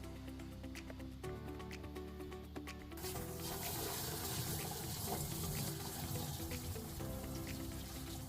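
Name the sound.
water refilling boat live wells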